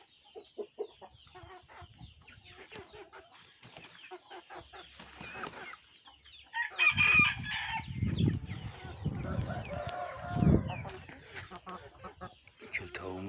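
Chickens cluck and crow close by, loud and repeated, with a person talking quietly underneath at times.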